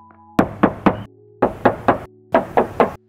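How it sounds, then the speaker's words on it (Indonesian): Knuckle knocks on the body panels of a 2022 Mitsubishi Xpander Cross automatic, three groups of three sharp, hollow raps, close and distinct, separated by short pauses. "Sekarang kita tes ketok dulu untuk kondisi bodinya ya."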